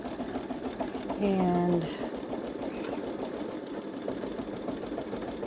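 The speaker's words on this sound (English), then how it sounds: "Now it's stitching out the last few words at the bottom." A Baby Lock Solaris embroidery machine stitches letters onto a T-shirt, giving a steady, fast mechanical whir and rattle up close, with a brief voice heard over it.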